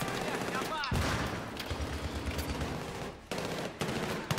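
Full-auto gunfire from a short-range weapon in Battlefield 3, rapid dense bursts crackling loudly and close, broken by brief pauses, with voices over it.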